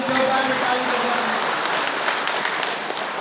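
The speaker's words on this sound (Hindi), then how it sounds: "आप जोरदार से ताली बजाएं।" Dense, steady crowd applause at a trade union federation gathering in Pasighat, Arunachal Pradesh, a continuous wash of many hands clapping at once, loud and unbroken, fading slightly toward the end.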